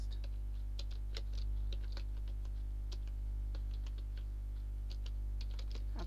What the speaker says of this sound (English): Align is equal to right, then angular bracket, and type the text.